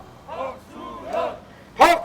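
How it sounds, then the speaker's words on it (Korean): Crowd at a Democratic Party election rally in Gongju, Korea, chanting a candidate's name in short rhythmic bursts, three chants with the last loudest. "여러분 연호 한번 해볼까요?"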